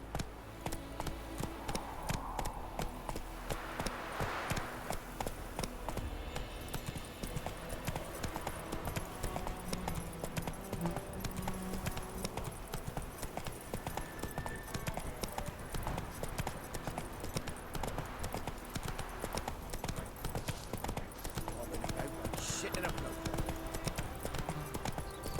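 Roach, the horse in The Witcher 3, gallops with steady, rapid clip-clopping hooves throughout, set against a dense game soundscape, with a faint whinny possible but no clear talk.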